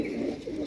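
Red bald-headed Madrasi pigeons coo softly in a brief, close, low murmuring burst.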